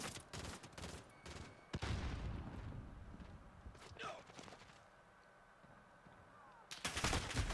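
Gunfire in the video game Call of Duty Modern Warfare multiplayer: close, loud bursts of rapid shots in a dense stretch at the start, quieter rattling shots in between, then another loud burst at the end.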